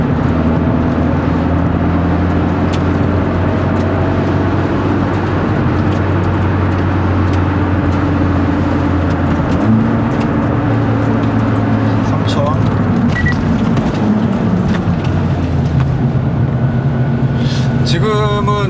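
A Hyundai Avante N with a manual gearbox hums loudly at about 3000 RPM, a steady droning engine note whose pitch steps up and down a few times, with a person talking over it.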